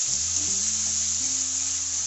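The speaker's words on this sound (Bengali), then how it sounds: "ভাজা ভাজা হচ্ছে।" Onion paste and whole spices fry in a hot pan with a steady sizzle under a low tonal hum from the stove, heard up close and without talk.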